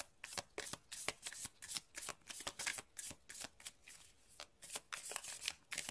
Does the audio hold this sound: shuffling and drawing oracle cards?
yes